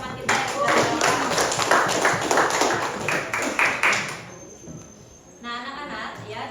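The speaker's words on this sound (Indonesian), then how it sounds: "tepuk tangan untuk teman-teman kita yang sudah bergabung" A class of children claps for classmates joining a school entrepreneurship project lesson, with a few seconds of fairly close, brisk clapping that dies away, leaving a quiet room with a faint high hum.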